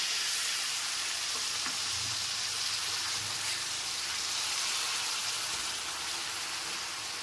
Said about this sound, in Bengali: গুঁড়ো মশলাটা দেওয়ার পর সামান্য একটু জল দিয়ে মশলাটাকে কষিয়ে নেব।